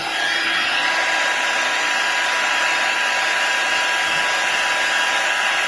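Hair dryer or heat gun blowing hot air onto the glass of a white iPhone 4 to loosen adhesive, a loud continuous even whoosh of fan noise held close throughout, with no voice.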